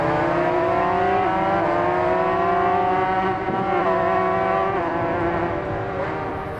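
A motorcycle in the racing game Ride 5 roars at full throttle as it accelerates, a loud, sustained engine tone with layered harmonics that stays close and steady throughout, with no talk.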